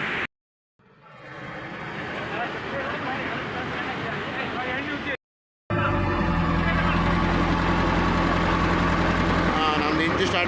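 A fishing boat's engine starts after cleaning and battery work, then runs with a steady low droning hum close by, a brief cutout between stretches and louder running afterward, with people talking over it.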